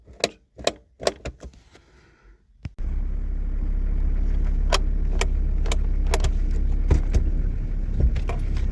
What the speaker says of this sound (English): So that's 4 clicks, and that's holding on a hill.